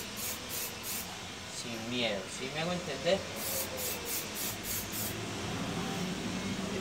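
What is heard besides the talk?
aerosol spray applied to car body seams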